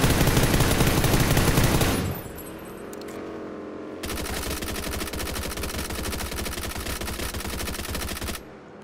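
Rapid automatic gunfire in a shooter video game, loud and continuous in dense bursts, with a brief quieter gap of scattered shots before a long sustained stream of fire that cuts off near the end.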